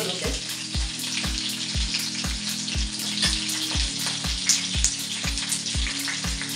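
Curry leaves, chilies and peanuts fry in hot oil for poha, a loud continuous sizzle and crackle close by, with a regular low thumping rhythm underneath throughout.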